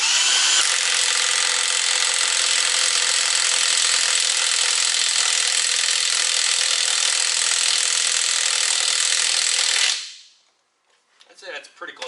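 A Dewalt DCF899H half-inch cordless impact wrench works on a lug nut, with a loud, close, continuous high-pitched hammering rattle lasting about ten seconds before stopping abruptly, followed by faint handling noise.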